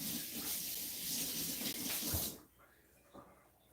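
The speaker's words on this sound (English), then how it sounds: "A little problem with our water going over here on our noodles." Pasta water boiling over onto noodles in a home kitchen, a loud rushing, sputtering spill that cuts off abruptly partway through and leaves quieter faint clatter.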